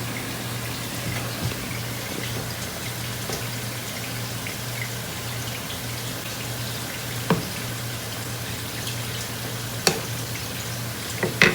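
Marinated taco meat fries in a pan for street tacos, a steady low sizzle running throughout with a few brief clinks and scrapes of stirring.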